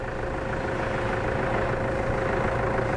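A 2016 Toyota Fortuner with a manual gearbox idles steadily, its engine giving a continuous, even low rumble with a faint mechanical hum throughout, close and alone with no talk.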